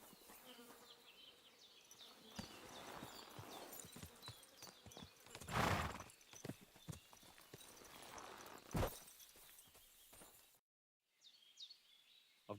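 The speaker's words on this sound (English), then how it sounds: "I've got a horse for you here." Horse hooves clopping in a game scene where a horse is traded for groschen, soft irregular hoof beats with a faint whinny-like swell and a steady insect buzz behind, quiet and fairly distant, no talking.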